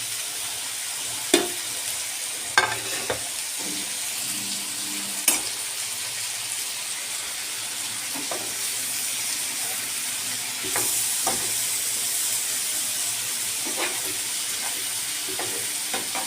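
Onions and chicken gizzards fry in a pan with a steady close sizzle and hiss, broken by a few sharp clinks of stirring utensils.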